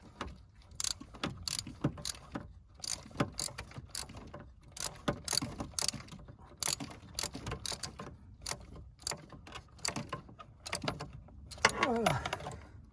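A ratchet tightens the alternator screw on a Peugeot 308 1.6 HDI, giving irregular bursts of clicking and metallic clatter, close and fairly quiet, with brief pauses between strokes.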